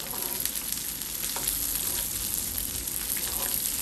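A sirloin steak sizzles steadily in a hot pan while being basted, a dense, continuous close-up crackle and hiss with no breaks.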